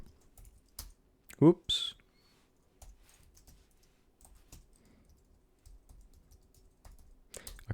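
Scattered keyboard typing, soft clicks coming in short bursts with pauses, close by, and a brief spoken exclamation.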